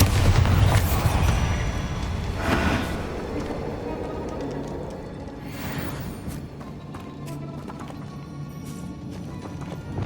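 Bombarda spell blast in Hogwarts Legacy, a loud, deep booming explosion opening the moment, followed by a second muffled burst and a lingering rumbling tail.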